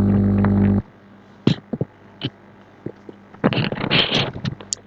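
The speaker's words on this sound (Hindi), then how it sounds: "और एक सेकंड में माइक को जो है कॉलर में लगा लेता हूँ।" A clip-on microphone being fastened to a shirt collar, giving a series of close, loud rustles, taps and scraping handling noises after a steady hum cuts off.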